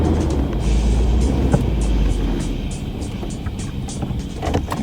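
Hummer H3 crawling over bumpy off-road mud flats and sand dunes, its engine giving a steady, loud broadband rumble with faint bumps and rattles throughout, no voices.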